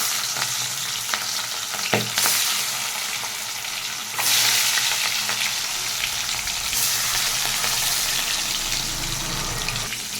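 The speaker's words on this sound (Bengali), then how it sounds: "এক এক করে মাছগুলোকে ভেজে নিচ্ছি।" Fish sizzling one by one in hot oil in a wok, a steady loud crackle with a few sharp bursts and spatters as pieces go in, no talking.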